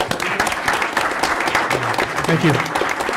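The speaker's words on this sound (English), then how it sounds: "Round of applause for you guys." A school board meeting audience claps for students and parents, a continuous moderate round of applause while a voice briefly says thanks over it.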